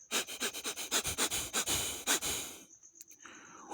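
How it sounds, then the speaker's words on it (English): Rapid, rhythmic sniffing, a quick series of short sharp inhales close up, then a brief quiet pause with a faint hiss. "sniffing the air"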